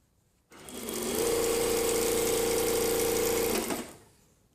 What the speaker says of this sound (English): So literally just sewing down the back here into the curve, 1 centimetre.